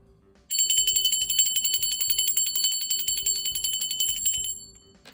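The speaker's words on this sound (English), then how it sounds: "I'm gonna ring the bell for my spirit guides, guardian angels, and ancestors" A ritual bell struck during a spiritual reading rings out bright and sustained, its shimmering tone ringing steadily for several seconds before fading, heard close and alone with no talk.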